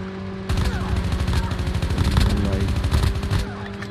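Rapid gunfire from the mobile shooter Call of Duty Mobile, dense bursts of automatic fire with overlapping shots running steadily for a few seconds over a low game soundtrack.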